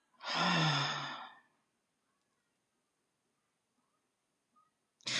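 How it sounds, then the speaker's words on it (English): A single deep, drawn-out breath during an exercise-style breathing practice, close and fairly loud for about a second, followed by near silence with a faint breath at the very end. "Let's breathe into it and let's breathe out of it."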